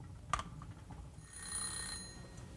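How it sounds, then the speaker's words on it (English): A kitchen timer rings faintly for a second or so while 2-pound lobsters cook, a thin high bell-like trill set against a quiet room hum with a soft click just before it. "So I'm going to set my timer for 18 minutes."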